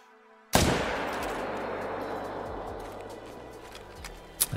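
A single loud rifle shot rings out at a bull moose in a hunting video game, with a sharp crack followed by a long rolling echo that slowly fades, and a faint second pop near the end.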